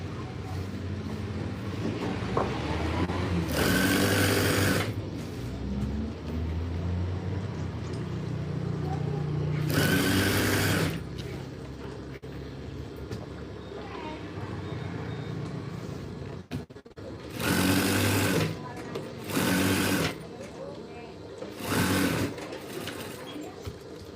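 A sewing machine stitches curtain fabric in several separate runs, each a loud, steady mechanical whirr that starts and stops abruptly, with quieter pauses in between.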